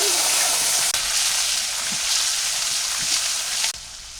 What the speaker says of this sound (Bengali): কড়াইতে তেল দিয়ে দিছি তেল গরম হয়ে গেছে দিয়ে দিলাম রসুন বাটা